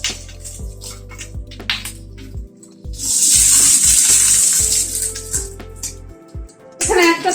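Two onions with their layers pulled apart go into white oil in a hot pan for a paneer dish, and a sudden loud sizzle flares up and then settles into steady frying while someone talks over it.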